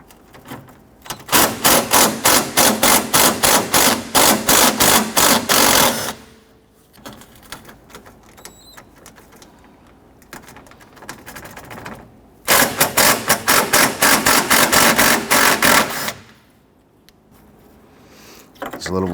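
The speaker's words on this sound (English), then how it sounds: "I'm going to go ahead, loosen and remove these and the brackets." A power tool, likely an impact or ratchet driver, runs in two long buzzing bursts on 10mm bracket bolts of a 2006-2014 Honda Ridgeline during AC condenser replacement, with a quieter pause of small clinks between them.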